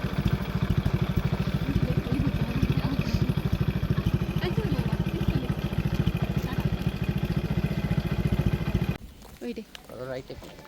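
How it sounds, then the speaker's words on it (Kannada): A motorcycle engine drones steadily at close range with a rhythmic pulsing throb, then fades sharply near the end. "ಬೈಕಲ್ಲಿ ಹೋಗ್ತಾ ಇದ್ದೀವಿ"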